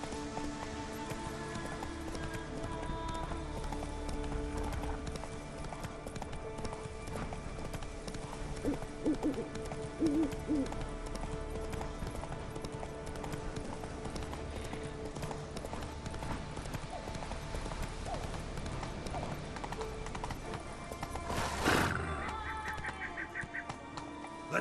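A horse gallops in The Witcher 3 with steady, rhythmic hoofbeats that run close and continuous throughout, briefly swelling near the end.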